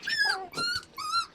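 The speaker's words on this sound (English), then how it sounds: "The puppies hanging out." Young puppies about four and a half weeks old give three high whimpering cries in quick succession, close and clear.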